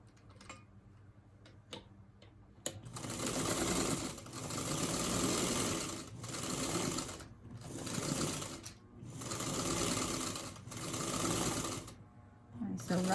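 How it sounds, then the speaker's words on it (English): A sewing machine stitches quilt pieces in repeated bursts of rapid ticking hum, each swelling and fading, separated by short pauses, close and fairly loud. "this one's ready to sew too"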